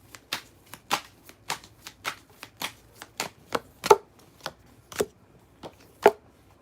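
Tarot cards riffled and snapped together in a steady run of about a dozen crisp, close bursts, a few sharper slaps standing out near the end, with no talking.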